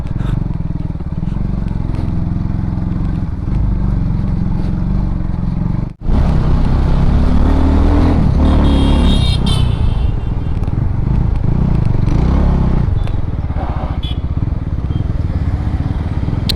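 Benelli motorcycles ride slowly over a rough, broken road, with a steady close engine drone and rumble that continues throughout, broken by one brief dropout partway through, plus clattering and scraping from the uneven surface.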